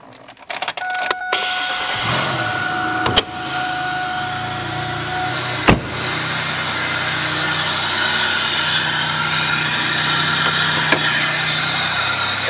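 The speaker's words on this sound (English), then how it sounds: "Now we'll go start up this vehicle." 2002 Pontiac Grand Prix GT four-door: keys rattle, then the engine cranks and catches with a loud start before settling into a smooth, steady idle heard close up with no speech.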